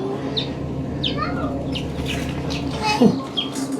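Scattered high, thin peeps from newly hatched chicks in an incubator over a steady low hum, a few soft calls rising and falling close by.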